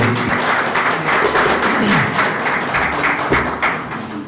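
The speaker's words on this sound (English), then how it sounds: "I think we can give Nico a round of applause for" Audience at a roundtable on cocoa developments in Europe giving speaker Nico a sustained round of applause, dense and even, with a few thumps within it.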